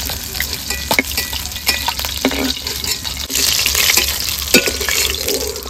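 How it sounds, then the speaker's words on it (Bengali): Rohu fish pieces frying in hot oil, a steady close sizzle with occasional sharper crackles and spatters throughout, no talking. "বাকি মাছগুলো ভেজে নেব।"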